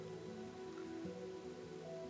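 Rain falling in Minecraft, a faint steady patter beneath soft game music tones, with no voices.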